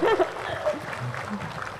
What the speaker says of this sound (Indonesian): Ayo boleh berikan tepuk tangan dulu pada semuanya.